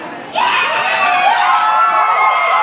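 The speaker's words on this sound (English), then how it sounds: "The elves cheered wildly. Cheer wildly." Children at a family reading night cheer and shout wildly as a group, a loud burst of high excited voices that starts suddenly and keeps going without a break.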